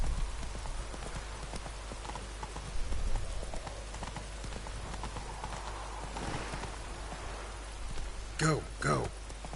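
Horse hooves clip-clop at a quick, steady pace over rain in the Witcher 3 video game, with a horse's whinny near the end. A voice can be heard faintly in the background.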